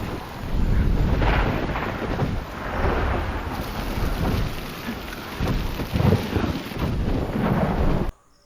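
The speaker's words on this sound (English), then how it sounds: "flying in the rain and the wind like that" Heavy rain and gusting wind roar steadily through a dramatic storm scene from a fantasy TV drama, with deep thunder rumbles swelling at intervals before the sound cuts off abruptly.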